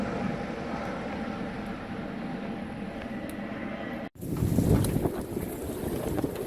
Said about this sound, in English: Blowing real hard here in Susha. Just blowing at least 25.